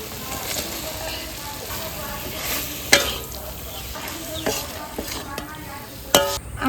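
Fried kakrol (teasel gourd) goes into a pan sizzling with mustard, Kashmiri chilli and sugar. A continuous hiss of frying carries several sharp clinks and scrapes from stirring, with faint talk in the background.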